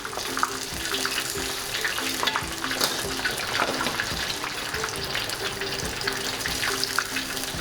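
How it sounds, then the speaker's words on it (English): Tonkatsu pork cutlets sizzle in hot frying oil, a steady dense crackle and hiss that runs the whole time, close and even, with no voices. "Let's fry them 2 to 3 minutes on both sides"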